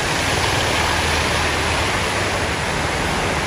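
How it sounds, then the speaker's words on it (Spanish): Heavy nighttime rain during a flood, a loud, unbroken broadband roar of downpour with water pouring and splashing off gutters onto a flooded sidewalk, steady throughout with no voices. "miren está lloviendo todavía fuertecito"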